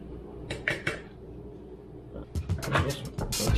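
Cookie ingredients being mixed in a bowl, a few scraping clinks early on, then a busier run of scraping and clattering of utensil against the bowl toward the end, close and moderately loud.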